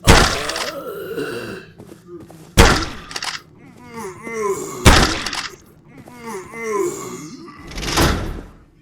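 Gunfire in a zombie horror shooter game: four sharp, loud single shots spaced a couple of seconds apart, with a voice talking and quieter game sounds in between.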